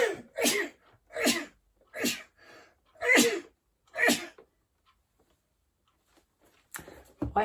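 A rapid run of five loud sneezes in quick succession, then a brief quiet stretch before another sneeze starts at the end.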